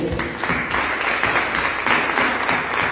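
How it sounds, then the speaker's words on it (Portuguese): A church congregation applauds during a worship service, a dense, steady wash of many hands clapping at close-to-mid distance, sustained for several seconds with some faint voices mixed in. "Dê um aplauso ao Senhor"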